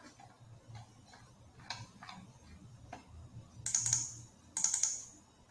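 Mouse clicks while working in ITK-SNAP medical imaging software on brain tumor scans: a few soft, close clicks scattered through near-quiet, ending in two sharper, brighter clicks.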